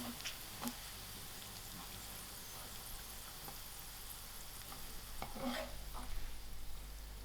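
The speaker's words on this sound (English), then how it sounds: "you can see my meat is nice and fried up with all its liquids has dried up." Lamb pieces fry with onions in a pan, a quiet steady sizzle with occasional stirring scrapes and clicks, growing a little louder toward the end.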